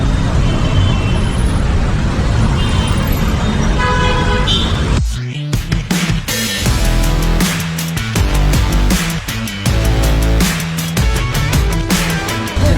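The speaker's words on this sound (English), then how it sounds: "Nighttime traffic in Pune." Nighttime street traffic in Pune, India, with car and bus horns honking repeatedly and loudly over a busy roadway rumble and brake hiss, all close by.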